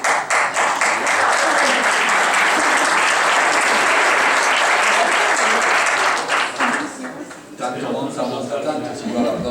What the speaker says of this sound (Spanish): igual aplausos antes que después